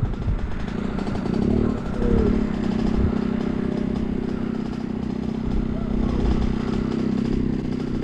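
A scooter engine runs on an enduro track in Krzeszowice, a steady mid-pitched drone with a revving swell, heard under people talking nearby.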